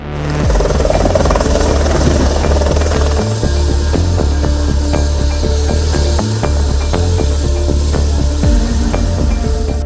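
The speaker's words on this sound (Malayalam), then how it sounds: "ഐസക് ജോർജിന്റെ ഹൃദയവുമായി എയർ ആംബുലൻസ് കൊച്ചിയിൽ നിലം തൊട്ടത്" An air ambulance helicopter roars loudly and continuously as it lands in Kochi, its rotor thumping steadily beneath a harsh whooshing hiss that lasts throughout.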